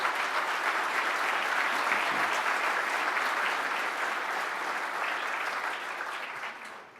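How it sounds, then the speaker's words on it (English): Sustained applause from a breakfast audience at a business association event, steady and full for about seven seconds before tapering off at the end. "let's give him a round of applause."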